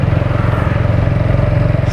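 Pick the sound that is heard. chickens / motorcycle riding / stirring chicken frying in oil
motorcycle riding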